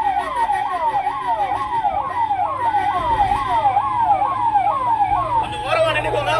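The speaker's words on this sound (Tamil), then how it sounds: "எமர்ஜென்சி வண்டி வருது, கொஞ்சம் ஓரமா நின்னுக்கோங்க." An ambulance siren wails in a steady, repeating rising-and-falling cycle, loud and close, with traffic rumble underneath throughout.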